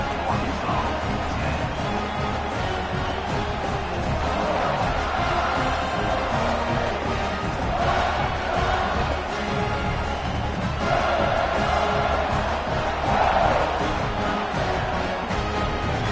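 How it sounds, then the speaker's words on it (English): Stadium crowd noise from the College Football 26 video game, Arkansas vs Tennessee, a steady loud roar of cheering fans that holds throughout with slight swells and no break. "this crowd now ready to get behind them."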